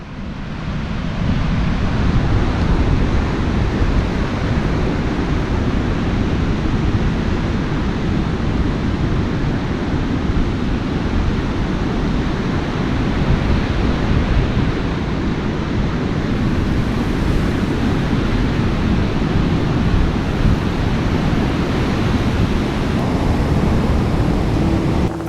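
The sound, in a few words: ocean waves breaking on a Dominican Republic shore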